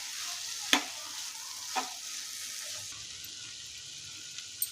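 Basmati rice being stirred into a pan of sweet corn and gongura palav, with a quiet sizzle under a few sharp spatula clinks against the pan; soft and close.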